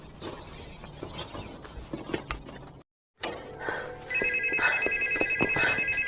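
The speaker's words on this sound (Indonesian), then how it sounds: "Soyun disambut oleh telepon rumah yang berdering kembali" A home landline telephone rings inside a house after some scattered background noises and a brief moment of silence. The electronic ring is clear and repeats steadily near the end.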